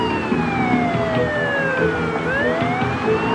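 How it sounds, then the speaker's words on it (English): A loud wailing police car siren sweeps down and back up in pitch over heavy highway traffic rumble, close by and continuous. "the driver does not yield to the bright lights and siren"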